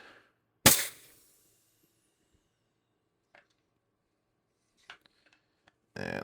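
A pressurised air-gun tank is de-aired with one sharp loud burst of venting air, followed by a few faint clicks and handling sounds and a louder hiss or rustle at the end; nobody speaks.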